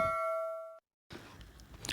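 A bright electronic bell chime rings once as a notification effect, sustained and clear for under a second before cutting to silence and then faint background noise.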